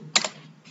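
A couple of quick computer keyboard key clicks in an office accounting setting, close and crisp, followed by a softer tap, with no talk.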